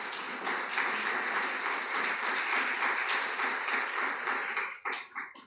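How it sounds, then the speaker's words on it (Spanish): A church congregation claps together during a Spanish-language worship service, dense steady applause that holds for several seconds before breaking into scattered final claps. "Denle un aplauso al Señor, aleluya."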